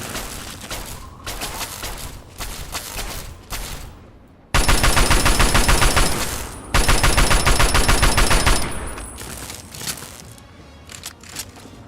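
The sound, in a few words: gunfire shootout in video game Fallout 3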